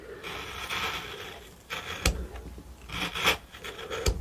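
A gouge rasps and scrapes through wood while a cowboy figure is carved, giving a few close, dry strokes with brief sharper scratches and no voices.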